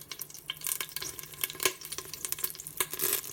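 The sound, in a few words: beef short ribs searing in a pot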